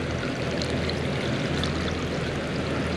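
Water is poured onto a hydroponic seed starter pad, a steady, close, fairly loud rushing pour that keeps going without a break and with no talking.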